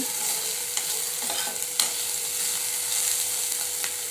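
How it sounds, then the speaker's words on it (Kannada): Okra frying and being stirred in oil for a home lunch, a constant bright sizzle with a few sharp scrapes of the spoon against the pan, no talking. "ನೋಡಿರಿ ಇವೆಲ್ಲ ಕಪ್ಪಾಗಿ ಹುರಿಲಿಕ್ಕತ್ತೀನಿ"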